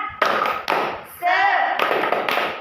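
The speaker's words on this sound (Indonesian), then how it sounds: "Oke, kita tepuk semangat ya." A classroom group performs a rhythmic spirit clap, short bursts of sharp taps and thumps in patterned groups, with voices joining in between the claps.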